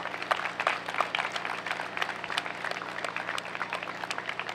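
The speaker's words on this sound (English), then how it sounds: "So please give them all a round of applause." A crowd at a Relay for Life cancer charity event in Mamaroneck claps steadily in dense, continuous applause, moderately loud and sustained throughout.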